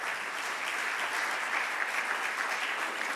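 Steady, dense applause from a large audience at a conference of mayors, clapping evenly at moderate volume for the full few seconds with no break.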